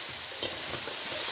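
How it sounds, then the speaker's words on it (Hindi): Finely chopped onion fries with cumin and two bay leaves in a pan. A close, continuous sizzle runs under a brief stirring scrape, with no voices. "प्याज को हम 1 से 2 मिनट के लिए भून लेंगे"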